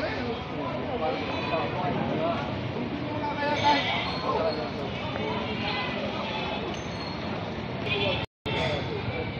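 Goats bleat amid a steady hubbub of crowd chatter and vehicle noise at the Padre Garcia livestock auction market, with people talking close by throughout.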